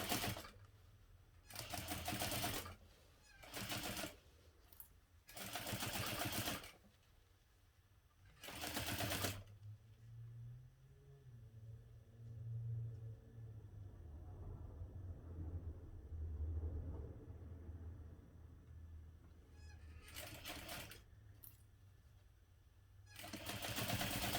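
A sewing machine runs in several short bursts while back stitching the start of a backpack seam, its rapid mechanical chatter separated by pauses, with a longer stretch of quieter handling noise and low rumble in the middle.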